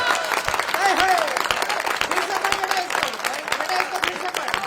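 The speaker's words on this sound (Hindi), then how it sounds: "आपकी तालियां कमजोर है" Audience clapping at a Hindi kavi sammelan, a poetry recitation event, heard as scattered applause mixed with a poet's voice and shouts of appreciation, fairly close and lively.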